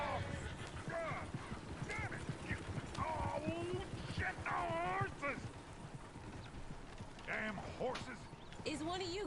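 Horse hooves clip-clop steadily in Red Dead Redemption 2, a moderate rhythmic clatter under scattered game dialogue and ambient outdoor sounds.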